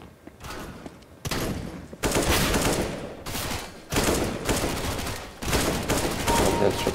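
Gunfire in the shooter game CS:GO rings out as several loud bursts of rapid automatic fire, each lasting about a second, separated by short pauses.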